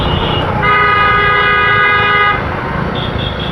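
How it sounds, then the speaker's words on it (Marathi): A vehicle horn blares on the road in one long, loud honk of almost two seconds, followed by a few short toots against the rumble of traffic and riding. "अरे कशाला हॉर्न मारतोय"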